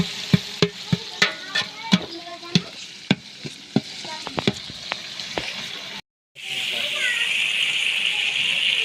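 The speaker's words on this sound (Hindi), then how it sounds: "अच्छे तरीके से टमाटरों को हमने पकाना है।" Tomatoes frying and being stirred in a pan for keema pulao, with sharp spoon scrapes and clinks over a steady sizzle, then a sudden louder, continuous hiss of frying as liquid goes in; someone talks throughout.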